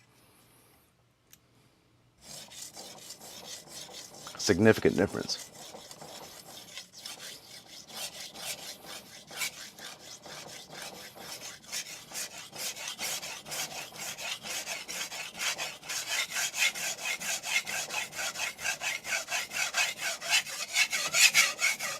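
A very large knife scraped in steady, gritty strokes across a resin bonded diamond plate of 6000 or 12000 grit, a close, rasping rhythm that grows denser and louder, with a brief spoken remark early on.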